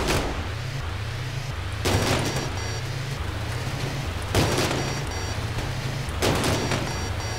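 Cannon fire in the vehicle combat game SCRAPS, repeated heavy booming shots in a regular rhythm, several blasts landing every second or two over a low, steady engine drone.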